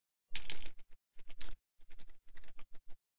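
Irregular bursts of keystrokes on a computer keyboard, fast clicking clusters separated by short pauses, close and clear with no talk.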